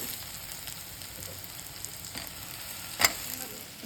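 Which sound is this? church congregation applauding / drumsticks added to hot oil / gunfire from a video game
drumsticks added to hot oil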